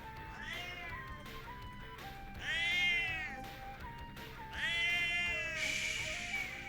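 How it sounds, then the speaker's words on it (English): A cat meows repeatedly in a series of loud, drawn-out calls, with several rising wails close to the microphone and no talking. "Excuse me, Jeff, you're a cat."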